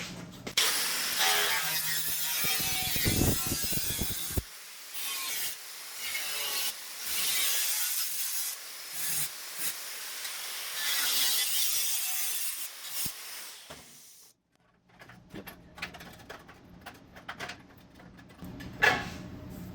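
Metal valance panel on a 1966 Triumph GT6 being cut, a loud continuous rasping saw-like cut for about fourteen seconds, then it stops and quieter scattered shop clatter follows.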